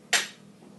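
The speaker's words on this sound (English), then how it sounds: "So I'm just going to crack those eggs" A single sharp crack of an egg against the edge of a bowl, close and brief, followed by quiet room tone with no talking.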